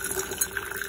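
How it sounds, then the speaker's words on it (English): Hot water poured into a repurposed container for iced tea, a steady close liquid stream with faint splashing and gurgling throughout. "Okay, so I'm going to pour my hot water in here."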